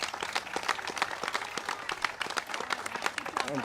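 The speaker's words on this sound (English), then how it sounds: "So please clap for the Governor Shapiro" Audience applause for Governor Josh Shapiro at a Pennsylvania celebration event, steady dense clapping from a crowd throughout, fairly loud and continuous with a few scattered voices mixed in.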